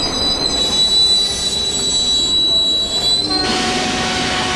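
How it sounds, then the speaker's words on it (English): A Mumbai suburban train brakes toward a halt, loud and close, with a sustained high metallic wheel squeal over heavy rolling rumble; the squeal cuts off near the end while the broad rail noise continues. "the train comes to a halt."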